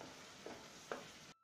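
Pointed gourd (potol) being stirred and fried in spice paste for doi potol, a soft steady sizzle with two brief scraping stirs, close and alone.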